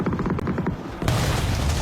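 Grenade explosions in the video game PUBG Mobile during an esports grand final, a loud booming blast that cuts in and rumbles on over a busy background of game noise.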